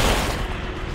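Gunfire in the horror video game The Consequence: a loud, booming shot whose crack decays into a rumbling tail within about a second, heard alone.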